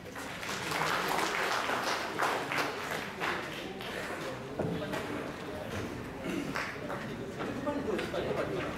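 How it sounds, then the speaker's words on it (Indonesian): An audience claps for the Deputy of Aceh at a gathering, a dense, fairly faint patter of many hands lasting several seconds with a few louder bursts and some voices underneath. "Sila berikan tepukan"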